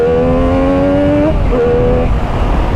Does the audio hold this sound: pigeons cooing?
no